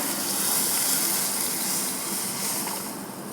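Tamarind and chili powder water pours into a hot pan with a loud sizzling hiss that gradually eases, close up and steady, with no talking.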